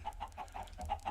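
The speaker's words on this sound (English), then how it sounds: "There's a chicken." Minecraft chicken clucking in a steady series of short, bright clucks, about seven in just over a second, over a low background rumble.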